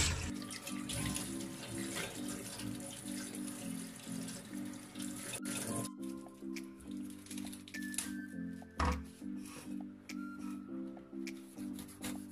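A pen knife is scrubbed with a sponge under a running kitchen tap while preparing a hibiscus sorrel drink: a steady rush of water runs throughout, with occasional soft squishes and clinks, and no talking.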